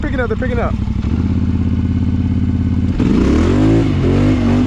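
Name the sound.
four-wheeler ATV engine revving on new mud tires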